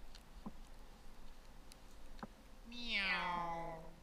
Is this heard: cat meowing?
yes